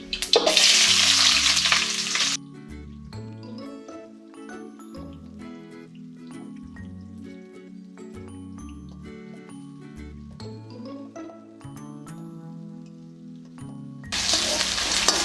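Onion and urad dal sizzle in hot oil in a pan, a bright frying hiss bursting loud at the start and end, with softer bubbling and background music in between.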